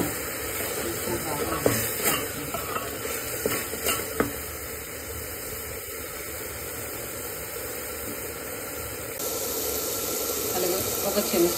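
Onions, tomatoes, salt and spices frying in a pan, a steady close sizzling hiss with occasional clinks of a utensil against the pan, and a voice speaking over it at times.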